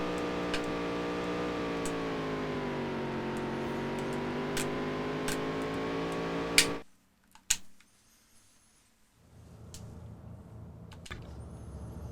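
A race car engine in Dirt to Daytona drones with a steady, rising and falling harmonic whine, then cuts out abruptly into near silence before a quieter, lower engine sound resumes.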